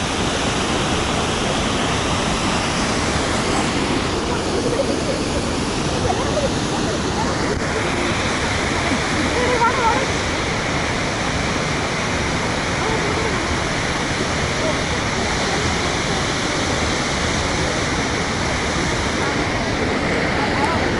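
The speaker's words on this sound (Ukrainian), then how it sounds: "верхній водоспад." Upper waterfall in Johnston Canyon, a steady loud roar of falling water that fills the whole clip without a break, with no voices over it.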